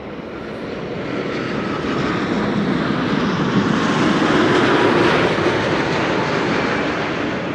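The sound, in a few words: business jet on final approach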